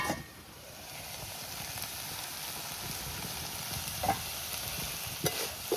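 Takla (tarota) greens stir-fried in a pan for a Konkan-style home bhaji, with a steady close sizzle and soft scraping stirs, a few sharper clinks near the end, no talking.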